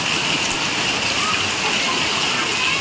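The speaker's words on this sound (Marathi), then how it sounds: "अवेळी पाऊस आलाय" Untimely rain during the Diwali festival season pours steadily in a continuous, even hiss, loud and unbroken throughout.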